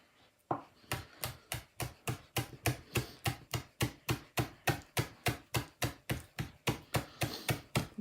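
A knife chops chives on a board in a fast, steady run of about two dozen crisp, close taps, with no one talking.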